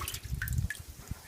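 Sumac bulbs splash and drip into a barrel of water, giving a quick, faint cluster of wet plops and droplets lasting about a second.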